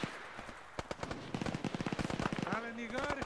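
Machine-gun fire in the video game Arma 3, rapid rattling bursts of shots that grow denser in the middle, mixed with a voice talking over the gunfire.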